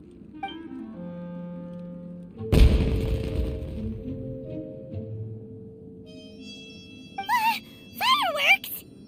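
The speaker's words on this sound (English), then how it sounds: "It sounded like fireworks." Fireworks going off in the Genshin Impact world on the Inazuma islands: a single heavy boom with a rumbling tail, followed after a pause by bright whistling, warbling sparkles near the end, set amid soft game music.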